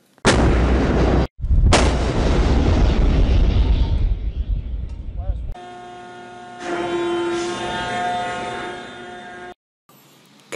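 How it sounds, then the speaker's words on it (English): Heavy guns of a battleship firing, two thunderous close booms in quick succession with long rumbling decay, followed by a steady tonal horn-like blast. "Battleship."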